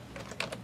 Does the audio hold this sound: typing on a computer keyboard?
yes